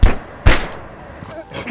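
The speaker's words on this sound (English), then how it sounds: "Things like punches or gunshots in fight scenes are the most obvious effects." A film-style gunshot sound effect: two sharp, loud bangs about half a second apart, each with a brief echoing tail, followed by faint rustling.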